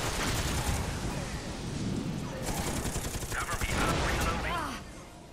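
Rapid gunfire from the PS3 shooter Scourge Outbreak crackles in a dense, continuous barrage at loud, close level, with brief whooshing effects partway through.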